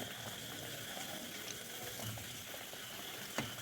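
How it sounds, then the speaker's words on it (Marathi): Vadya, fasting-snack patties, frying in oil over medium heat, giving a steady close sizzle that holds evenly throughout, with a faint click near the end. "आपण मिडियम गॅसवरती या वड्या तळून घ्यायच्या आहेत"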